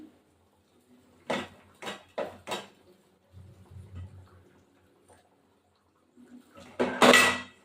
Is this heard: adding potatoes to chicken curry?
yes